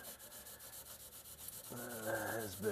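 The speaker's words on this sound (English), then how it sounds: "just using some Scotch-Brite, cleaning the contacts, or where this sealant is going to play" A Scotch-Brite pad scrubs the fuel system's canister vent line area on a Mercedes ML500 W163, giving quiet, continuous rapid rubbing strokes that grow slightly louder and more textured toward the end.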